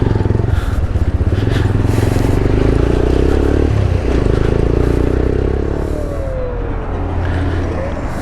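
A motorcycle is ridden through a village with a steady close engine drone and road rumble, the pitch shifting slightly as it moves along, with faint wind noise throughout.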